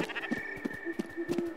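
Sheep in the video game Spiritfarer let out a short run of quick, soft bleats, several brief nasal calls in an uneven rhythm over faint background music.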